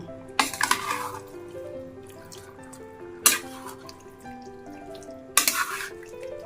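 Chicken and spices are stirred in a pan after a little water is added. A gentle, steady simmer runs throughout, with three louder bursts of scraping and splashing from the stirring, heard close by.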